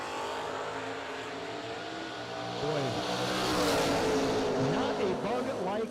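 Drag race cars launch side by side, Kevin Brandon's Monza among them, at a doorcar showdown, with engines swelling from a steady rumble into loud rising revs, while a voice speaks briefly over the roar.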